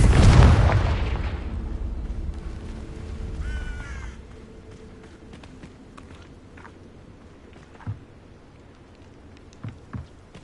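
A Confringo spell explodes in a video game with a loud, booming blast up front that decays into a rumbling tail, followed by scattered quieter pops and crackles.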